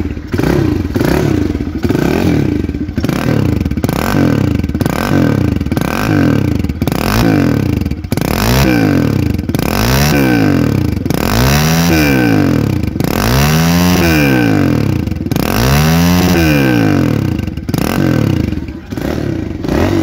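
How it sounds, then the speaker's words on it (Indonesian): A Kawasaki KLX 110 RL dirt bike engine revs repeatedly, its buzzy pitch rising and falling in steady waves, loud and close throughout. "itu dia sob, suaranya KLX 110 RL ya"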